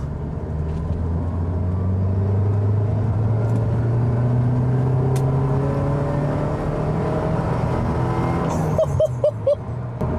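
Porsche 944 S2 accelerating hard on a motorway, heard from inside as a steady engine drone rising in pitch through the gears, loud and continuous, with a brief shift near the end.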